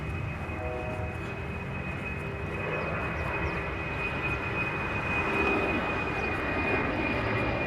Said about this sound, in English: Sorry about that plane, guys